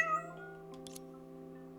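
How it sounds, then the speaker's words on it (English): A black cat from Honkai Impact 3rd gives one clear, close meow with a falling pitch. A steady tonal hum carries on underneath, and a few brief, faint higher chimes sound near the middle. "the black cat meowed and plopped down absently"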